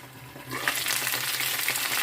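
A potato and vegetable ragout fries in a pan as it is stirred, a soft crackling sizzle with scraping that builds after a brief quieter start, close and alone without talk.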